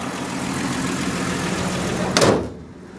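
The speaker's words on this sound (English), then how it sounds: "Let's go ahead and we'll close the hood." The hood of a 1956 Willys 4x4 wagon slams shut with a single loud, close thud over the steady hum of the idling engine, which then drops off to near quiet.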